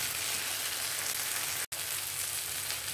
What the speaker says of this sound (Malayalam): ഇനി ഇതൊന്ന് ഒന്ന് വഴന്ന് വരട്ടെ, ടൊമാറ്റോയും കൂടെ ഒന്ന് വഴന്ന് വരട്ടെ.